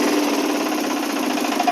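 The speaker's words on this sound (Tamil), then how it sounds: "இப்போ வண்டியை வந்து ஸ்டார்ட் பண்ணிட்டேன்" A Bajaj RE diesel auto-rickshaw engine idles just after starting, giving a steady, fast, buzzing rattle close to the microphone with little variation.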